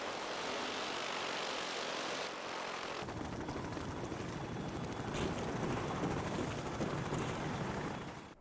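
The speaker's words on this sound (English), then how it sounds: "In Bomb Squad, by no clipping outside of the map, you can witness 2 helicopters from campaign flying above." Two campaign helicopters passing overhead above the Bomb Squad map in Modern Warfare 2 Spec Ops, a loud continuous rotor and engine roar that shifts in tone partway through and stays constant until it cuts off at the end.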